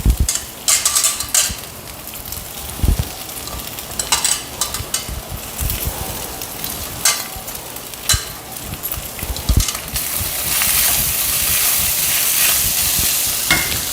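Squeezed poha goes into a pan of frying onions and is stirred, giving a steady sizzle with scraping, clinking spoon strokes that settles into a louder continuous hiss toward the end. Close and loud, no voices.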